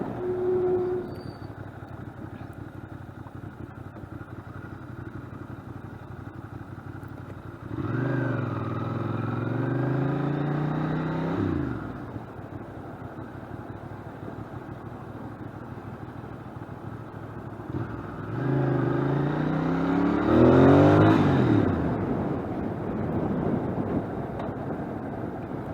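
A Ducati Monster 600 motorcycle ridden through urban streets, its engine rising twice in strong revving pulls through the gears, with quieter steady engine and road noise in between.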